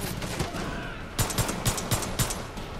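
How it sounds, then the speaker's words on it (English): Gunfire in the game Far Cry 5 comes as a burst of about six rapid shots after a quieter stretch, sharp and fairly close against a steady background of game ambience. "Who the fuck's shooting at me?"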